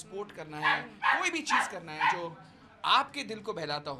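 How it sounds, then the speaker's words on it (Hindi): A dog barks amid a birthday celebration, a few short barks mixed into the middle of a woman's continuous speech, which stays louder throughout. "जैसे एक कुत्ता भी भौंक रहा है"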